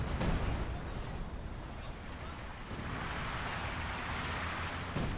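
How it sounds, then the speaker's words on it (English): Artillery shells land during a 4v4 Company of Heroes 2 battle in Lienne Forest. Heavy rumbling blasts with some sharper impacts sit inside a dense, continuous wash of battle noise, with a caster's voice talking faintly underneath. "Artillery also hitting the S-25."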